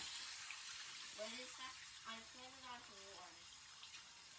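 A kitchen tap runs in a steady, faint hiss of flowing water, with a voice and other talk breaking in over it.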